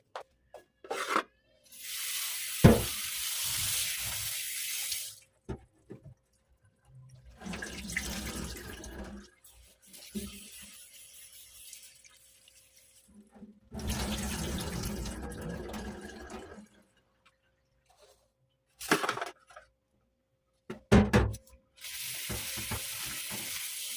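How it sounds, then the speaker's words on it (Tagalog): Tap water runs in several bursts into a kitchen sink as string beans and their leafy shoots are rinsed and rubbed by hand, with quiet gaps and small handling clatter between the splashing spells. "hugasan ko to, pati itong talbos"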